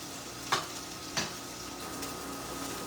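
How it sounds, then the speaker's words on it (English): Salmon fillets sizzling gently in a pan over low heat, a steady soft frying hiss with two brief sharper clinks or spatters near the start, no voices. "And then I'm going to put the salmon in"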